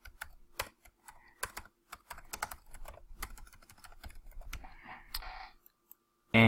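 Quick bursts of keystrokes on a computer keyboard while a page title is typed, with irregular clicks and short pauses, ending in a sharp louder click.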